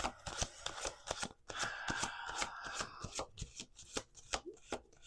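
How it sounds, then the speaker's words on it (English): Tarot cards being shuffled by hand at a table, a rapid run of crisp riffling flutters and soft slaps repeating in quick bursts, close up and moderately quiet, with faint background music underneath. "we're going to do 2 more shuffles."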